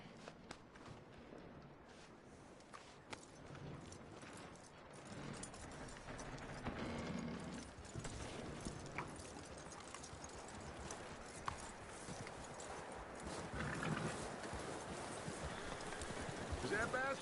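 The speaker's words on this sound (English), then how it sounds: "That looks like a decent horse. You should keep him." Horse hooves clop steadily in Red Dead Redemption 2, faint and continuous under low ambient game sound.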